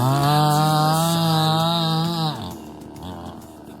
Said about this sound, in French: je me suis retrouvé avec la tronçonneuse coincée